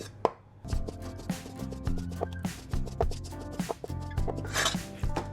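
A knife slices through a beef steak against the grain, making a quick run of close, crisp cuts against a board. Each stroke lands in a fairly regular rhythm, with a few louder knocks and no talking.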